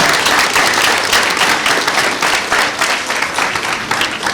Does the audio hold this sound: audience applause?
yes